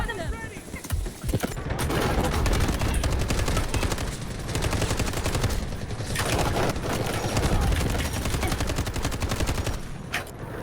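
Rapid bursts of automatic gunfire crackle almost continuously in the first-person shooter Delta Force, with dense close shots and short pauses, under occasional talk.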